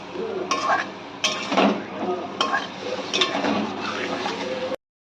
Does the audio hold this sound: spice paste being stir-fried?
yes